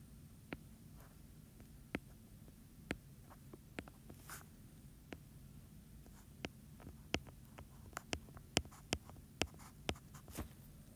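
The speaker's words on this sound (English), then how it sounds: "Please write your name at the top of your paper." A pencil writing on paper at a school desk, faint scratching with scattered soft taps and strokes over a quiet room hum.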